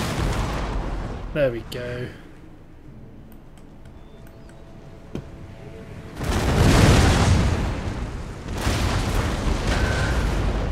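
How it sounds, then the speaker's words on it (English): Round shot fired by cannon artillery in Empire: Total War lands as a couple of heavy, booming bursts that roll on for a second or two, following a short spoken remark and a quieter battlefield ambience. "Let's have them do round shots so at least they can contribute."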